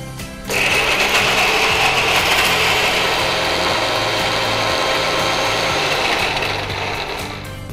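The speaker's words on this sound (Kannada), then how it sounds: "ನಾನು ಗ್ರೈಂಡ್ ಮಾಡ್ಕೊಡ್ತೀನಿ ನಿಮಗೆ." A kitchen mixer grinder whirs steadily as it grinds a fine paste, starting abruptly after a brief pause and running loud and continuous with a gritty, rattling buzz.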